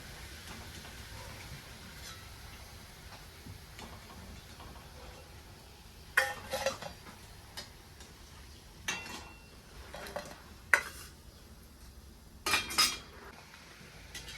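Deep-fried barnyard millet (bhagar) vadas lifted out onto a plate, giving scattered soft metallic clinks and scrapes of a utensil in short clusters against a quiet background.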